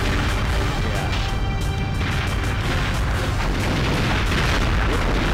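Dense, relentless gunfire and booming explosions from a multiplayer Perfect Dark 64 match in a temple level, loud and continuous with no pauses.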